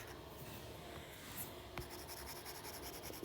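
A marker squeaks and rubs across a board during a chemistry practice problem, faint scratchy strokes with a sharp tap partway through, quiet and close, no talking.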